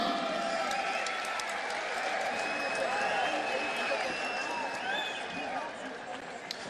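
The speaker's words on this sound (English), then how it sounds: "Let's have a round of applause for our beautiful ring girl," A crowd at a boxing fight night applauds the ring girl, a steady wash of clapping and cheering under a commentator's voice that runs throughout.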